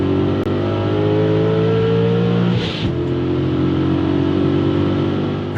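Peugeot 206 engine with no muffler revving loudly and steadily up close, a raw droning roar that briefly dips near the middle before surging back.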